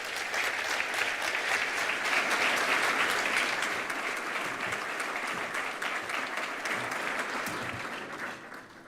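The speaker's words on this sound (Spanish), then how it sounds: "Un fortísimo aplauso para ella, por favor." Dense applause from an audience at a cultural presentation, strongest early and slowly thinning toward the end.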